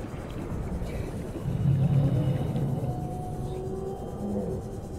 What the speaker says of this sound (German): Irgendwas hat er richtig heftig gebrüllt.